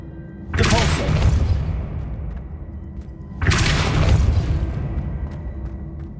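Two heavy booming bursts of the Depulso spell in Hogwarts Legacy, each a loud whooshing impact that rumbles and fades over a couple of seconds, separated by a short pause over low game ambience.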